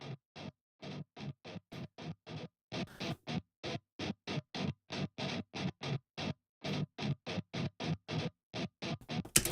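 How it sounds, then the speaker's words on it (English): Palm-muted electric guitar chugs in a djent metal style, played through an Archetype Abasi amp simulation: a long run of short, tight, evenly spaced percussive hits, loud and close, with brief pauses between phrases. "chugs are just really palm muted guitars"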